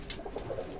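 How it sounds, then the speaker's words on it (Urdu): Pigeons kept for breeding, including fancy birds, coo softly in a loft, a few low murmuring calls in quick succession at moderate distance. "یہ ہیں کبوتر اور بہت ہی زیادہ ڈسپلن طریقے سے بیٹھے ہیں"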